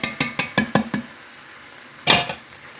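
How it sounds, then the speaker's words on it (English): A spoon stirs undrained canned green chilies and an 8-ounce can of tomato sauce in a dish, tapping out six quick, even clinks, then a pause before a louder scrape and clink near the end. "You're going to stir that around, break your tomatoes up."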